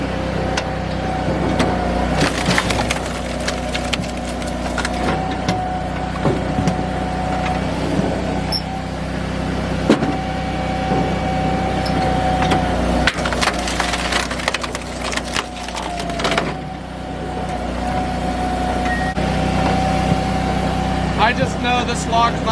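A Japa 365 Pro firewood processor runs steadily under a constant engine drone, splitting logs with repeated cracking and splintering bursts of wood, while someone talks over the machinery.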